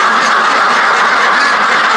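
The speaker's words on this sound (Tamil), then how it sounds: "நாட்டு வாத்து இருக்குது" Loud, dense quacking from a flock of native country ducks, continuous and close, with overlapping calls and no pauses.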